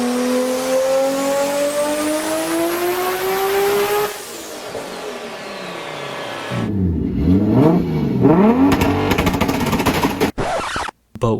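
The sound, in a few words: Toyota 2JZ engine car revving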